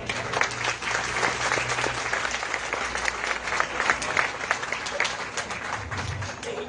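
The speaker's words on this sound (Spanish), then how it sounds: "un aplauso muy fuerte al creador que nos ha traído la bendición" A crowd at a project inauguration gives a loud, continuous round of applause, dense clapping holding steady for several seconds with a faint low hum in the background.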